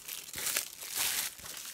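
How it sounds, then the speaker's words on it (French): Blu-ray packaging is unwrapped with close, crisp crinkling and tearing of plastic wrap in a few short bursts. "si je déballe le tout, attendez, on va déballer ça"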